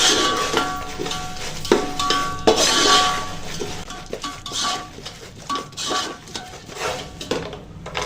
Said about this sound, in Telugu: ఇవన్నీ వేసి ఒకసారి కలుపుకొని